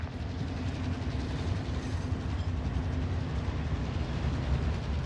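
A train rolls steadily past in the shooter Warzone, a continuous low rumble with faint rail clatter holding at an even, fairly loud level throughout with no voices.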